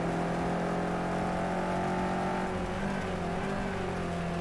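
A powerful Bentley GT3 race car in Project CARS 2, racing at Zolder, keeps up a loud, steady engine roar with sustained high revs throughout, without any voices.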